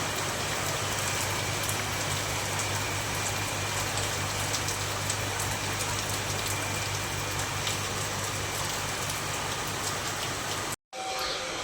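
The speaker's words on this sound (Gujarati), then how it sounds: "વરસાદ ચાલુ થઈ ગયો" Steady rain falls without a break, a dense broadband hiss of drops hitting surfaces close by, with no other sounds over it and a brief drop-out near the end.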